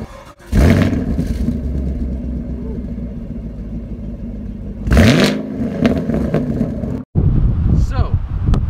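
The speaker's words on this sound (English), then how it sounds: "the Infiniti Q50 Redsport. Well, it's a rear-wheel drive, 400 horsepower monster sedan" Engine of an Infiniti Q50 Redsport, a rear-wheel-drive 400-horsepower sedan, roars in loud revving bursts near the start and again around the middle, with steady wind buffeting and engine drone between them.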